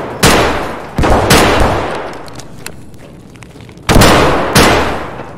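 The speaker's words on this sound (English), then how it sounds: "Long range shotgun, bro." In a video game, a shotgun fires four loud, booming blasts in two spaced pairs, each with a short decaying tail, close and dominant.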